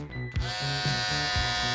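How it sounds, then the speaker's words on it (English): An electric razor buzzes loudly and close up, switching on after a brief moment and running steadily, its motor pitch wavering slightly as it moves. "electric razor"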